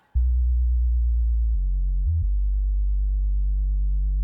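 Deep, heavily filtered synth sub bass holding low sustained notes, smooth and rumbling, with one brief pitch shift partway through; no other sounds.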